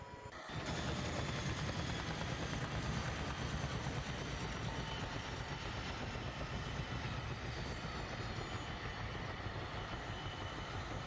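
Helicopter during air assault training, a steady loud rotor and turbine roar that starts abruptly and holds constant throughout, with no voices.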